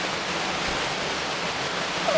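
Waterfall at Curug Panoongan near Cipanas Galunggung, a steady broadband roar of falling water, close and continuous with no voices.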